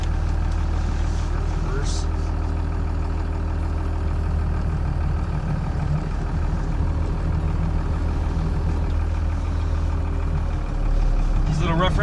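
A Cummins 12-valve diesel dually pickup with a MagnaFlow muffler and welded MagnaFlow tip idles with a deep, steady rumble that stays close and constant throughout, with no talk.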